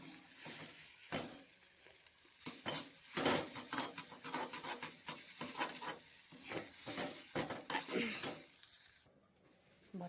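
Brinjal and egg barta being scooped out of a pan, with scraping and stirring strokes of a spoon against the metal and a faint sizzle, coming in irregular bursts over about ten seconds before quieting at the end.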